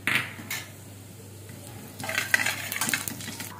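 Cumin seeds and a small cardamom frying in two tablespoons of hot oil in a kadai, with a soft crackle under clinking and scraping of a spoon against the pan, the stirring growing busier toward the end.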